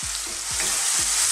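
Carrots and tomatoes stir-fry in a hot pan for ginisang togue, a loud, steady sizzle and hiss broken by a few soft spatula scrapes, with no voices.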